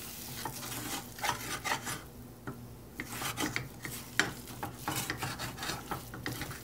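Masala sautéed and stirred in sesame oil on a low flame for egg curry: repeated close scraping strokes of a spoon against the pan over a light sizzle, no voices.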